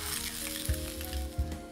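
Mushrooms half-fry in a little oil, giving a soft, quiet sizzle with a few dull low knocks spaced through it, close by and without talk.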